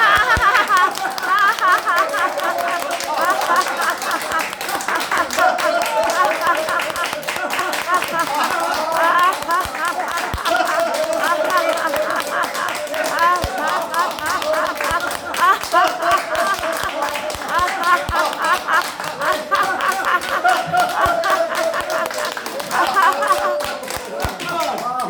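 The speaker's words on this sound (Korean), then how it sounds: "다 같이 손뼉 치며 웃음" A church crowd in Bucheon claps along while laughing together during a laughter-therapy session, a loud, dense stream of rapid hand claps mixed with hearty group laughter that runs continuously without a break.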